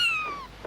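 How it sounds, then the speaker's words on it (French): A small cat gives one short meow up close, a clear, falling, tonal cry that fades within a second. "Un petit chat est entré dans mon appartement"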